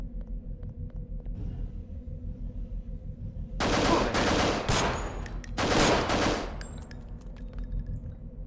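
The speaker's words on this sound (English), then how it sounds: "Stop shooting me, friend, please." Enemy automatic gunfire in the video game Deus Ex tears out in two loud, sustained bursts, each lasting about a second, over a constant low in-game hum.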